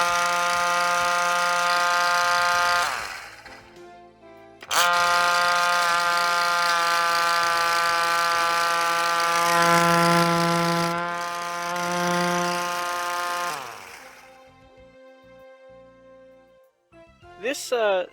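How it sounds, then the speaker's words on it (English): A loud mechanical siren wails on a sustained tone, cuts out briefly, returns, then winds down and sputters. "It's an air raid siren."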